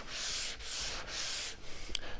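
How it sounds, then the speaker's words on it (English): Steady back-and-forth rubbing of a sanding sponge on dry lacquer, sanding with the grain in long even strokes with short pauses between, close up and soft. "then I go back and I sand with the grain."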